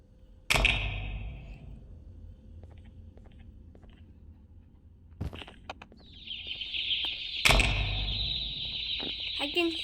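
Clucking birds in the video game Garten of Banban 2, with a sharp impact near the start and another later, followed by a sustained chirping, clucking burst in the second half.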